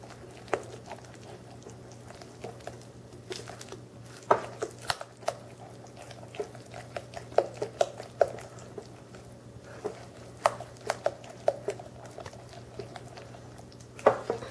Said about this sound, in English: Then you're going to stir this 100 times, or about 1 minute, in the same direction to activate the gluten.